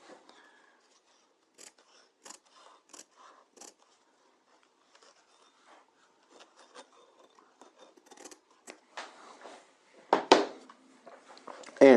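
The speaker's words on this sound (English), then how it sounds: "Let's cut this even with our side seam now." Scissors trimming bias interfacing fabric even with a side seam at a neckline, giving sparse, quiet snips and rustles close by, with a few louder cuts near the end.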